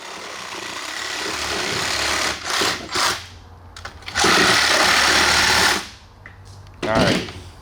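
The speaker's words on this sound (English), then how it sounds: "I'm going to angle my sawzall back towards my original" A sawzall reciprocating saw cuts through a deer skull, giving a loud close buzzing rasp in several bursts separated by short pauses, with a final short burst at the end.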